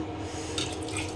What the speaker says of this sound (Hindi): थोड़ा सा पानी ज़्यादा डालना पड़ेगा